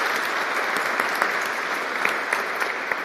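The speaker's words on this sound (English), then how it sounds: "So a big round of applause to you." An audience at a FANUC UK open house event applauds in a sustained, even burst of clapping, with occasional sharper claps standing out.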